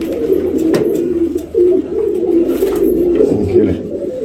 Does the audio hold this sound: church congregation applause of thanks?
no